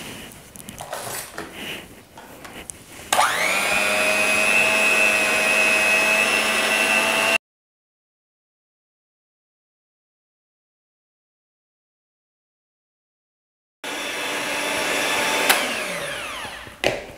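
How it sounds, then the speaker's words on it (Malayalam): Electric beater whirring steadily with a high motor whine while whipping cream, running loud and close, cutting out into silence, then starting up again near the end. "1 കപ്പ് വിപ്പിംഗ് ക്രീം നന്നായി ഒന്ന് ബീറ്റ് ചെയ്തെടുക്കാം."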